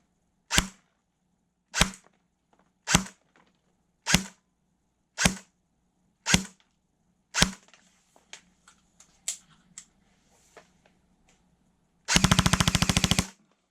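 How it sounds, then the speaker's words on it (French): An Arcturus AK-06 airsoft rifle fires single shots at an outdoor shooting range: seven sharp, evenly spaced cracks, then scattered faint pops, and finally a brief rapid full-auto burst. "c'est parti pour le test de tir de l'Arcturus AK-06"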